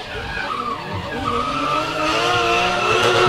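Two drift cars skid with sustained tyre squeal as their 235 radial rear tyres haze under heavy power, loud and continuous with engine roar at a New Zealand drift competition.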